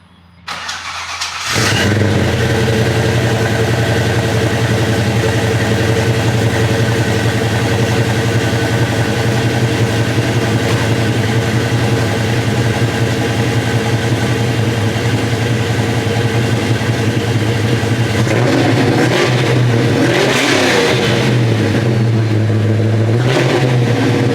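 Ford Foxbody Mustang with 2.5 inch exhaust, Jones full bore mufflers and 2.5 inch tailpipes starting up, then a loud, deep, steady rumbling idle with a couple of short revs near the end, close and alone.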